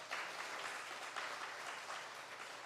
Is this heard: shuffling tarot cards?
no